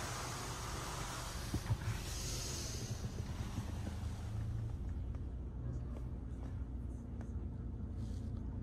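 High-pressure rinse in a touch-free Mark VII car wash at a Circle K: a loud, dense spraying hiss for the first few seconds, then thinning to a quieter rush with scattered drips and knocks.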